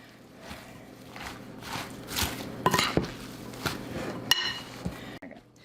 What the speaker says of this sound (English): Now we just stir it up.